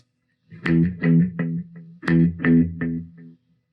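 A guitar plays a short phrase of plucked notes through an analog delay pedal, each smeared by a processed, slightly warm echo that trails off after the final note, with no talking.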